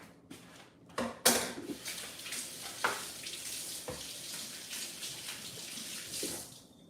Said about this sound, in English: And then give my hands a quick rinse.